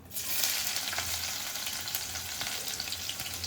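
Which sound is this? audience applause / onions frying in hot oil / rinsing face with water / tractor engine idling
onions frying in hot oil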